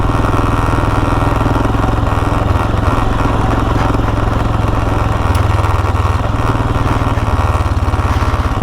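A 2019 Royal Enfield Himalayan single-cylinder motorcycle being ridden, its loud, steady thumping engine drone close and continuous throughout, with slight shifts in pitch as the rider works the throttle.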